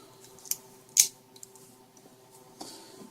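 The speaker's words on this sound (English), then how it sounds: "a box cutting knife." A box cutter knife slicing through a thin notebook power adapter wire, heard as a few quiet, separate snips and scrapes, one sharper cut standing out among the faint handling noise.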